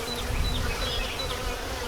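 Dense, steady buzzing of many honey bees close by during installation of a bee package into a hive, a continuous droning hum with no talking.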